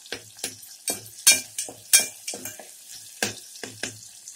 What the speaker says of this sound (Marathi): आता हा टोमॅटो कढीपत्ता नीट यामध्ये आपण शिजवून घेऊया।